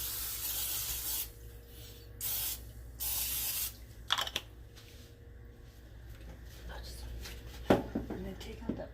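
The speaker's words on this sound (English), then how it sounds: "now we're going to spray the grill pan because I don't want this ham to stick" Cooking spray hisses onto a nonstick grill pan in a home kitchen in a few short bursts, then gives way to quieter handling clicks and rubbing sounds, near and fairly soft.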